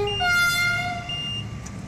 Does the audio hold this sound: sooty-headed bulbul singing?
no